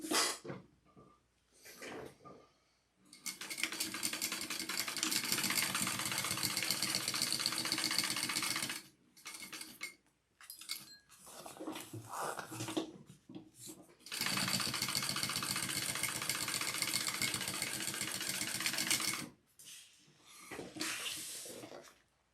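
A sewing machine runs a seam along the top edge of a bag with a zipper in two long, steady bursts of whirring stitching, close by, separated by short pauses and quiet handling.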